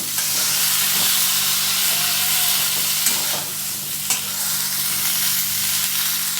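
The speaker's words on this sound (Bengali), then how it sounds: "একটু নুন দিলাম আর একটু হলুদ দিলাম নেড়ে মিশিয়ে দেবো দিয়ে ভেজে নেব" Sliced eggplant frying with salt and turmeric in a hot kadai, a continuous strong hissing sizzle with occasional spatula stirs, close and steady without any talk.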